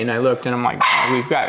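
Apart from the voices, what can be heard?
dog barking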